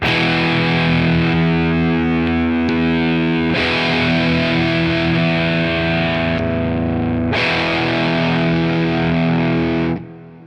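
A loud, distorted electric guitar through a mid boost pedal and KMA Logan Transcend Drive plays sustained chords in three long sections, ringing out before cutting off at the end.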